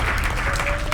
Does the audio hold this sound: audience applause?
yes